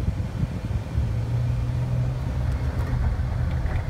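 A 2006 Jeep Wrangler TJ with a manual transmission drives along, its engine a low, steady rumble with a brief rising hum midway and road noise underneath.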